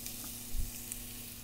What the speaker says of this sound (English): I'm going to let those vegetables cook and soften up.